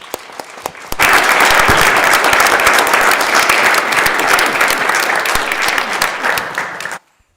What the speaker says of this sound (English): Maggie Carlton, a nice round of applause.